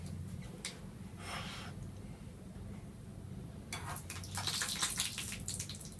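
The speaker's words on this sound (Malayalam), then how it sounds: "അപ്പോൾ നമ്മൾ നേരത്തെ പറഞ്ഞ വെള്ളം നമ്മളിപ്പോൾ ഒഴിക്കുകയാണ്. കണ്ടില്ലേ ശബ്ദം?" Water poured into a hot pan of spluttering mustard seeds, a faint, close stream with bursts of hissing and crackling that swell toward the end, with no voices.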